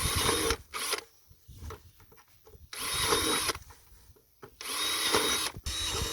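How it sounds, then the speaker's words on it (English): A power drill with a 1/4-inch bit whines in three separate bursts while drilling ventilation holes in a plastic bucket, quieter gaps between them, close and fairly loud, with no talking. "we're going to drill some holes for our worms to breathe around the sides of the bucket"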